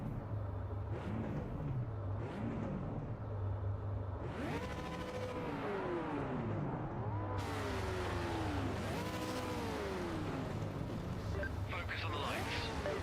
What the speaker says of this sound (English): The cars don't sound great.